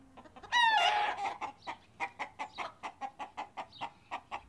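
A chicken clucks in a quick, regular series of short, close calls after one louder squawk near the start, with no talking.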